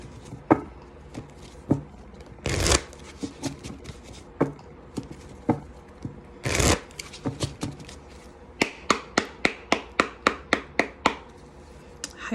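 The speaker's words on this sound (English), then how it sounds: "going to shuffle the deck." Tarot cards are shuffled by hand: soft rubbing and sliding, a couple of louder riffles, then a quick run of crisp taps as the deck is squared.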